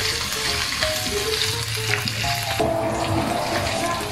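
Pork belly paksiw sizzles in a pan as it is stirred, a steady loud frying hiss with scraping movement, while a faint melodic tone runs underneath.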